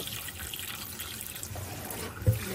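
Tap water runs and splashes steadily into a container of salted green lemons being prepared for pickling, a continuous close trickle with a small knock near the end.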